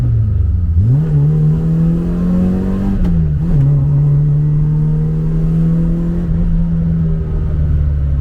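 A tuned Citroën AX Sport circuit race car engine revs hard and holds a steady high drone, dipping briefly and climbing again, loud and close with no talk.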